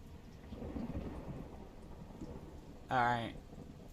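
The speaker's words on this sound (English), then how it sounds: "Can you hear the thunder and stuff, or no?" Rain and rolling thunder from the horror video game Othercide play quietly as a soft steady patter with low rumbles, while someone talks over it and a brief tonal sound rises near the end.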